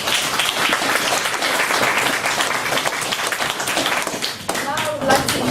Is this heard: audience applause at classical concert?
yes